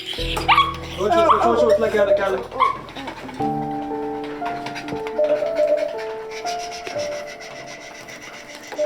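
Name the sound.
injured puppy whimpering at vet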